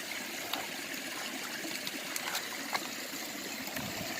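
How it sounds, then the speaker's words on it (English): Freezing cold stream water runs and trickles steadily during gold panning at a placer gold site, close and faint, with scattered small splashes and clicks of the pan and no voices. "the water's freezing cold, so I'm just going to pan this really quickly."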